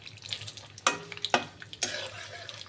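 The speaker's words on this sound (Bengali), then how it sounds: "গ্যাসটা বাড়িয়ে দিই, তাহলে কাজু বাদামটা একটু ভাজা ভাজা হয়ে যাবে" Cashew nuts frying in a pan over a raised flame, with a soft sizzle beneath three sharp clacks of a spoon stirring against the pan and smaller scattered taps, close by.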